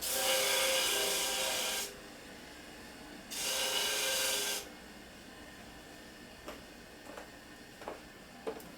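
A bench grinder dresses a worn screwdriver bit during a Harley shovelhead transmission rebuild, with two loud grinding bursts of about two and one seconds each, followed by quieter scattered clicks and handling noises.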